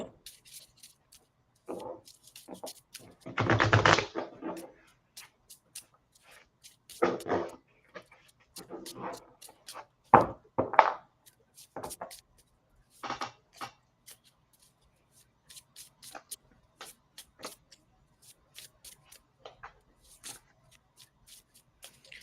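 Tarot cards being shuffled by hand in short, irregular riffling and rubbing bursts, fairly close and moderately quiet, with gaps of near silence between bursts.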